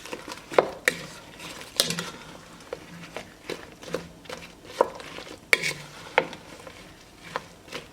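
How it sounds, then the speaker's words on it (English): Sugar is mixed into apple chunks in a pot for homemade applesauce, with irregular close scrapes and clanks of a spoon against the pot over soft wet squelching, loud knocks spaced every second or so. "I'll sprinkle it around. You don't have to add the sugar in, but I wanted it a little bit sweeter. So I'll just mix it in."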